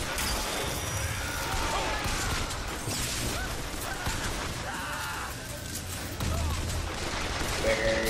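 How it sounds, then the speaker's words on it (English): Heavy gunfire in BioShock Infinite Remastered, a dense continuous fusillade of shots mixed with crashes and whooshes, loud and close, with a player's voice running underneath. "Oh yeah, they're shooting at that"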